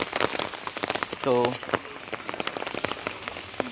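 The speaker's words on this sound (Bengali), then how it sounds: "বৃষ্টিও মরশুম এসে গেছে, এখন আজকে লাগাতার বৃষ্টি" Steady monsoon rain patters densely on surfaces nearby, with a brief spoken word partway through.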